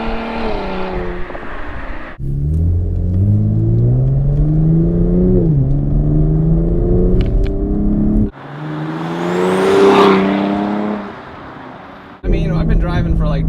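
Cadillac CTS-V Sport fitted with a Corsa axle-back exhaust, loud and close, revving in bursts with deep rising and falling engine tones, a brief drop to quieter running between pulls, and a short pause near the end.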